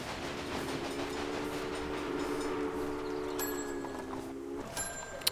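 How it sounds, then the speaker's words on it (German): Trains departing in the Railway Empire video game: a steady rolling rumble with a sustained two-tone horn lasting several seconds, followed by brief high whistle tones and a sharp click at the end. "Schaut mal, die Züge fahren auch alle voll wieder los."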